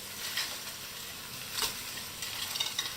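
Crabs and shrimps stir-fry in a pan over a high gas flame, making a continuous sizzle broken by scraping bursts of stirring, with no talking.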